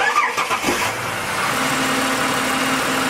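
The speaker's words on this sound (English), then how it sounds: "I'm going to start the car." A car engine cranks and catches, then settles straight into a steady idle. It is close and loud, with no talk over it.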